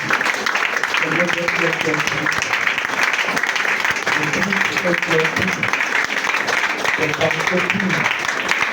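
A church congregation at a worship service applauds steadily and continuously throughout, with a voice speaking or chanting over the clapping.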